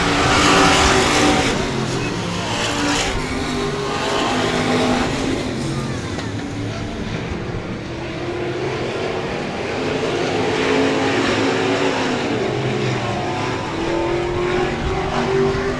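Stock cars racing at Cotton Bowl Speedway during a heat race, engines roaring loud and close as the pack charges past, the snarl rising and falling through the turns, with an announcer talking over the noise.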